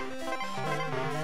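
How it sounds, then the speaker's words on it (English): Short 8-bit Game Boy sound effects from Donkey Kong Land, barrels bouncing and bananas being collected, heard as a quick run of bright chiptune bleeps that step up and down in pitch, loud and alone. "that's the sound of barrels bouncing and bananas collecting from Donkey Kong Land."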